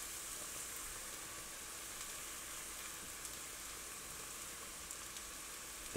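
Onions and garlic sizzling in a soup pot, a steady, even frying hiss that holds close and fairly quiet throughout, with no talk.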